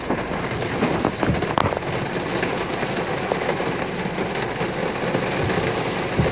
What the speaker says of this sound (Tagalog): nakikita natin yung lakas ng bugso ng ulan